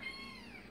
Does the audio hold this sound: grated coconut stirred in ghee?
no